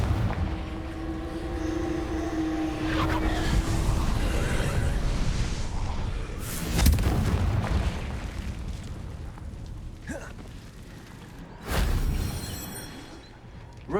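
Confringo explosive spell blasts in Hogwarts Legacy, with two sharp booming bursts standing out over a dense, noisy game soundscape of rumble and ambient effects.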